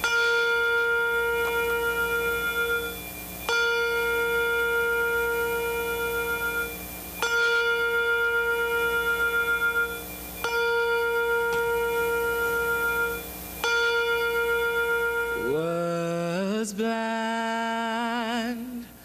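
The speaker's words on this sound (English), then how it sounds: "Lake United Methodist Church will toll bells 53 times, one in memory of each person in Tuscaloosa who was lost due to the storm" Church bells at Lake United Methodist Church toll in memory of storm victims in Tuscaloosa, ringing one slow, resonant strike roughly every three to four seconds, each ringing out long before the next, followed by a swelling, wavering tonal sound near the end.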